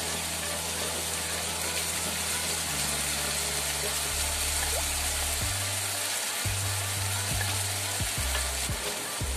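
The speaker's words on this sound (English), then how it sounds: "that's been frying for two to three minutes now so we are going to add the rest vegetable" Mixed vegetables sizzle steadily in a hot pan while being cooked into a healthy vegetable sauce, with a dense hiss throughout and a few stirring knocks near the end; no one speaks.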